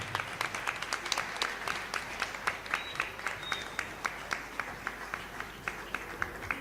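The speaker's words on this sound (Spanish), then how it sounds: "Que se escuchen los aplausos." A church congregation clapping in unison to welcome a visiting brother, steady rhythmic claps at roughly three per second, moderately distant, with faint voices underneath.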